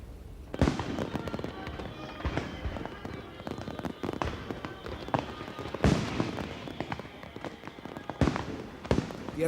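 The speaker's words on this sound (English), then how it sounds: "the fireworks were both celebratory and valedictory" Fireworks bursting over the Thames off Greenwich during the P&O 150th anniversary celebration, a rapid irregular series of sharp cracks and bangs at moderate distance, with louder clustered bursts throughout.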